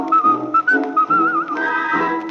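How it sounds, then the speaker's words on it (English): Melodic whistling of a cheerful tune from Snow White and the Seven Dwarfs, performed with an orchestra. Sustained, bright whistled notes glide and repeat over a steady instrumental backing, loud and close. "Pucker up your lips and whistle at the sunlight."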